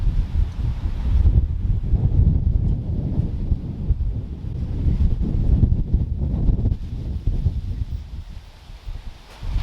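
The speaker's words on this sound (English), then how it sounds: "I wanted to show you the tops of these trees, and I don't know if y'all can see the dust just blowing by. Golly. It's windy." Strong wind blows across a farm, a loud continuous buffeting roar with gusts swelling and easing, heavy rumble hitting the microphone and no voices.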